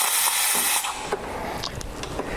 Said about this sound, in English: Just let a little bit of steam out there.